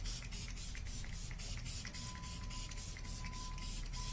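A Omorovica Queen of Hungary cooling face mist sprays in a steady, continuous close hiss with faint rhythmic pulsing from repeated pumps, loud and alone.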